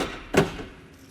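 A single solid thud from a 2018 Mercedes G-Class W464 door lock, close and fairly loud, fading quickly into quiet.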